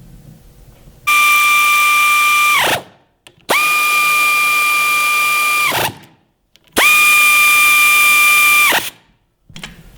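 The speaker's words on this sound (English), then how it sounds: "it's already got about 25 from the ratchet. Air ratchet." A pneumatic air ratchet, used while fitting new gears to a Jeep, runs in three loud, close bursts of high whine, each about two seconds long, with short silent gaps between them.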